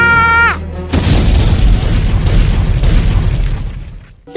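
A bomb goes off in a sudden loud boom that rolls into a long, dense rumble, right after a brief sustained tone cuts out.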